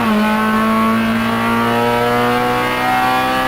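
Honda race cars at a NASA National Honda Challenge championship race hold a loud, steady engine drone with strong harmonics as they pass on the track, the pitch shifting only slightly.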